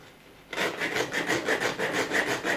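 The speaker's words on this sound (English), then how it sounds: "as you start filing a larger surface area, the slower it goes." A file rasps back and forth against the metal bonnet lock of a Ford C-Max in rhythmic, close strokes, about eight passes in quick succession after a brief quiet start.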